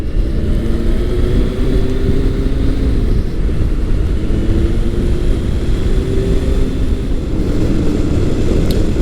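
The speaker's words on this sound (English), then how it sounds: "I'm currently riding Kawasaki's 2008 Concours 1400" A 2008 Kawasaki Concours 1400 touring motorcycle being ridden, its engine a loud continuous drone with steady wind rush, pitch rising and easing slightly as the rider holds speed.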